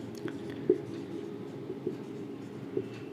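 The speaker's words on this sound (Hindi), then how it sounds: "सबसे पहले डेफिनेशन लिखते हैं ल्यूमिनस ऑब्जेक्ट का।" Chalk or marker writing a definition on a classroom board, a few soft scratchy taps and strokes at a quiet level over faint room hum, with no voices.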